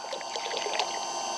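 Hot water flows and splashes from the outlet of a Gasland BS318 tankless water heater into a stock tank pool, a steady, close, hissy gurgle with no talking.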